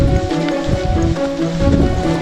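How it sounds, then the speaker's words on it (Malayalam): Heavy rain pours steadily during a hillside trek at Nellikkamala near Amboori, Trivandrum, a loud, dense hiss that fills the whole stretch without letup. "നല്ല മഴയാണ്"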